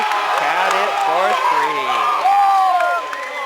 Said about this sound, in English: Crowd loving that.